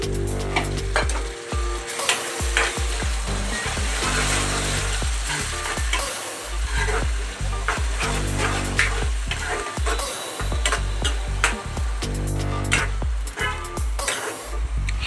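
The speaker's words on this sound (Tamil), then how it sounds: "அதனால் நம்ம அதை எப்போவுமே வந்து நல்லா வதக்கிக்கணும்" Ginger garlic paste and onions sautéing in a pan for chicken gravy, a loud continuous sizzle with frequent spoon scrapes and clacks against the metal throughout.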